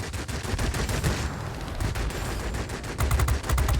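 Rapid automatic gunfire from a P-38L Lightning heavy fighter's guns in an aerial combat game, dense continuous bursts throughout, loud and close, with a heavier cluster of shots near the end.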